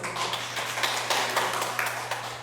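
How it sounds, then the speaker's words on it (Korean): Applause from a church congregation at a Friday worship gathering, a dense, steady patter of many hands clapping together over a low hum, moderately loud and continuous without speech. "박수"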